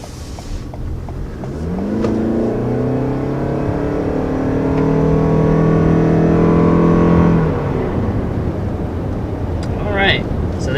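A 2020 Honda CR-V Hybrid accelerates hard to 60 mph, its engine note climbing in a steady rising drone for several seconds, then easing off, heard from inside the cabin.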